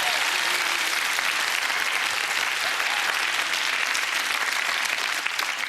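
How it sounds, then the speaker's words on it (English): A studio audience at a 1997 Tim Vine comedy show applauds with loud, dense, unbroken clapping that fills the whole stretch without letup. "Round of applause for Nina!"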